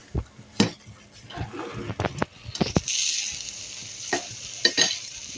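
Semolina and sugar roast in ghee in a pan for shira, giving soft sizzling with scraping stirs and occasional sharp utensil clinks against the pan, close and fairly quiet.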